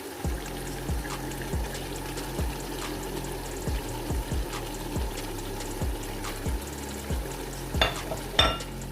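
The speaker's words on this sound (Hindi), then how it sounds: "अब मैं इसमें टमाटर ऐड करूँगी। और साथ ही इसके मैं लहसुन अदरक का पेस्ट इस्तेमाल करूँगी।" Tomatoes and ginger-garlic paste fry in a pan for chicken biryani, with a continuous sizzle and regular low thumps and scrapes of stirring spaced about half a second apart, with no talking.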